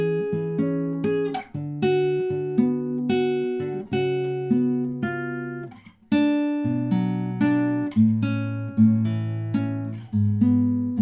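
Fingerpicked acoustic guitar playing the outro of a song, clear, close and unaccompanied, with a steady flow of plucked notes over low bass tones and brief pauses between phrases.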